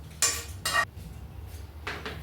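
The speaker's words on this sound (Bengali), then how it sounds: "এবার ফ্রাইং প্যানে 1/4 চামচ জিরে নিয়েছি আর 4-5টে গোলমরিচ নিয়েছি, সেটিকে শুকনো খোলায় ভেজে নেব।" Cumin seeds and a few black peppercorns dry roasting in a frying pan, heard as three short clattering scrapes of utensil against metal pan, close and moderately loud, with quiet gaps between.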